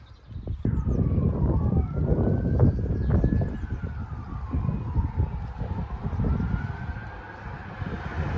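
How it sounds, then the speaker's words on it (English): Distant emergency sirens wailing in rising and falling sweeps for several seconds in a rural lockdown setting in Ireland, under loud gusting wind noise on the microphone. "Heard some sirens"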